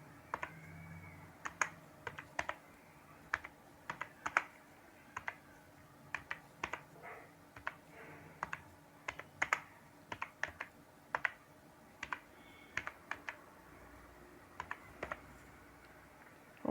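HTML code typed on a computer keyboard, a quiet, close run of irregular key clicks in short bursts, alone with no voice.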